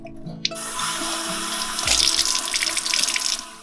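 Water test bottle and lid rinsed under a running tap, with a click and clatter at the start, then a steady gush of water into a sink with splashing and plastic knocks as the bottle is swirled, close.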